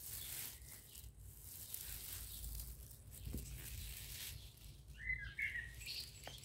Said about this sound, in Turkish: Kuşların seslerini duyuyor musunuz arkadaşlar?